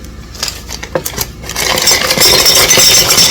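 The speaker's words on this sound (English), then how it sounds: "Gonna put my ice in." Ice cubes dropping into a cup for a homemade Twix caramel cold brew, a few sharp clinks early followed by a dense, loud rattling clatter as the rest of the ice tumbles in close by.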